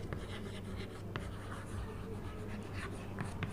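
Steady scratchy strokes of writing on a board during an English grammar lesson, close and continuous with short taps between strokes, no voice heard.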